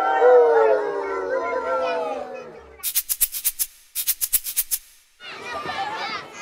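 Children in a Kibera preschool in Kenya mimic a dog, voicing a few loud, rising howl-like cries that follow a stretch of group singing, with a burst of sharp chanting and noisy voices after.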